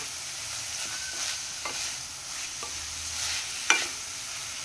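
Spices with red chilli powder and garam masala sautéing in a pan for padwal bhaji, a soft steady sizzle with occasional spatula scrapes and a sharper knock near the end.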